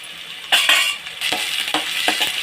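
Onions stirred in hot oil with mustard seeds, fenugreek and rock salt in a pan, a steady close sizzle broken by a few scraping stirs of a spoon, with no talk.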